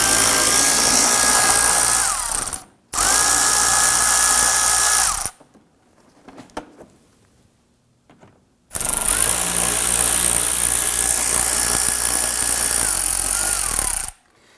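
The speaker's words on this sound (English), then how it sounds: "We're going to use our 7mm socket to loosen and remove these screws." A power tool with a 7mm socket runs off fender liner screws on a 2008-2011 Ford Focus, heard as three loud whirring bursts of several seconds each, pitch dropping as each stops, with quiet clicks between.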